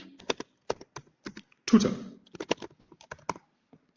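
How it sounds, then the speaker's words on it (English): Keyboard typing in short uneven bursts of key clicks during a hands-on AI chatbot tutor workshop, with someone talking in between and a brief louder burst midway. "my typing is terrible"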